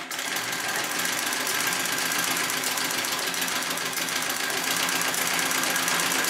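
A Singer 66 treadle sewing machine runs steadily during free-motion quilting, a loud, continuous, rapid mechanical clatter with no pauses and no voices.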